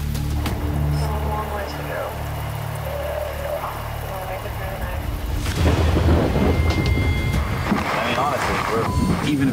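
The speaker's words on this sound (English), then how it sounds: "the rain lets up a little bit, we're completely soaking wet" Heavy rain pours over a flooded makeshift survival shelter with low thunder rumbling, a dense constant hiss that swells louder midway, with voices faintly mixed in.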